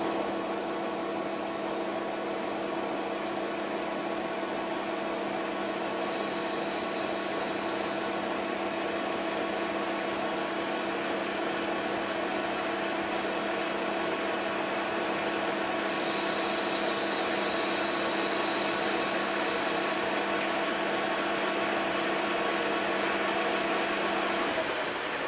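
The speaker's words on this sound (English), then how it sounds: "So now we're going to machine the little bit of internal center at 30 degrees." A lathe cutting a 30-degree internal center on a ThreadExpress part, giving a steady, fairly quiet mechanical hum with a constant tonal whine and a few brief brighter stretches, with no talking.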